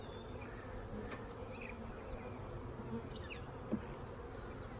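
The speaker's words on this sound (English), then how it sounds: "Busy bees today." A steady, soft buzzing of many honey bees at a hive hums continuously, with a few individual insects droning past nearby.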